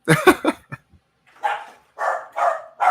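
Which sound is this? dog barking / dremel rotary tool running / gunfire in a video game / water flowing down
dog barking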